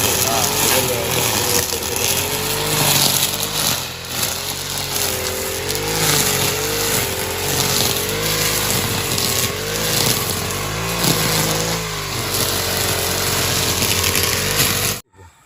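A Honda grass cutter's small engine runs continuously nearby, its pitch wavering up and down as the throttle shifts, with people talking over it.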